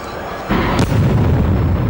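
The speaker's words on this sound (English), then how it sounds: "I presume you heard that loud explosion right next to you?" A car bomb hidden in a stolen 1979 Holden explodes with a sudden heavy boom, shattering windows, followed by a rumbling, crackling aftermath that lingers without any talking.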